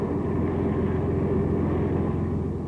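Japanese warplanes attack invasion craft in World War II footage, heard as a steady, droning roar of aircraft engines that holds unbroken and fairly loud throughout, with no talk.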